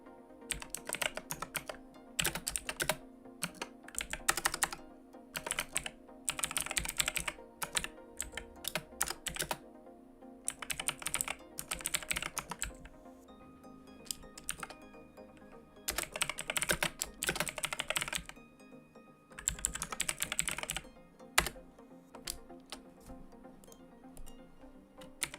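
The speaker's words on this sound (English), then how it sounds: "You can listen to my keyboard." Keys clatter on a loud, noisy computer keyboard in steady bursts of rapid typing with short pauses, close and dry, with no voices.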